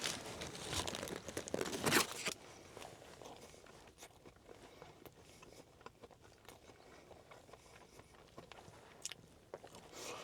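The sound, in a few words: eating a Culver's walleye fish sandwich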